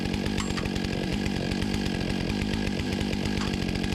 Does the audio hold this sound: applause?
no